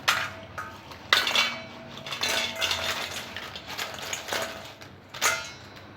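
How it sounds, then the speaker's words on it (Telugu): Crispy fried potato chips tumbling into a bowl in a home kitchen, a series of light clattering, rustling clinks in separate bursts, fairly quiet and close, with no talking. "ఇలా అన్నీ ఫ్రై చేసుకున్న తర్వాత వీటిని ఒక బౌల్లో వేసుకోవాలి."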